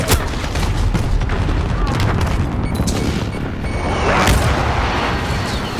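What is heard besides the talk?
precision airstrike explosions in a video game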